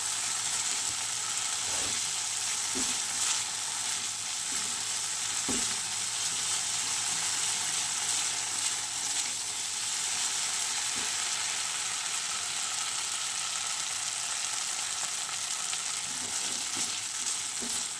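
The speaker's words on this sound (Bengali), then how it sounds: "কাঁচা টমেটো ভাজা আমার প্রায় হয়ে এসছে" Raw green tomatoes fry in a pan with a steady, close sizzle, broken now and then by faint clicks of stirring, and no voices.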